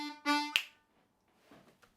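A short blues harmonica turnaround lick of quick eighth notes, 2 draw, 2 blow, then 1 draw, with bright reedy tones up close, a sharp attack, and a quiet tail afterward.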